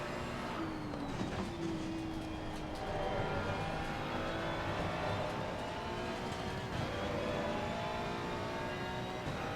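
Ferrari race car in Assetto Corsa Competizione, engine note rising and falling through gear changes and revs, a steady strained roar heard up close without talk.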